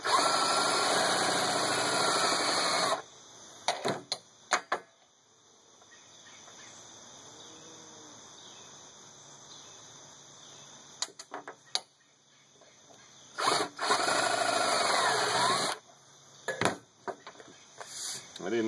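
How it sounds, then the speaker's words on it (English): A power drill running low on battery whirs loud and close in two bursts, about three seconds and then two seconds long, with quieter handling noise between them. "I didn't know my drill was low on power, but we have enough power to do it."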